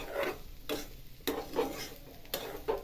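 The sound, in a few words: slow stirring of roasting sukhadi mixture in a pan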